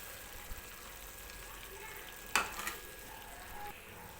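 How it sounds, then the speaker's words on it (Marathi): Paneer cubes tipped into a pan of green peas and mixed for mutter paneer: a faint, low sizzle runs underneath, broken by one sharp clatter of the spoon midway. "तर आता मी टाकणार आहे पनीर. आणि पनीर टाकल्यानंतर व्यवस्थित मिक्स करून घ्यायचं."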